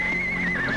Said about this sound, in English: Could be his horse.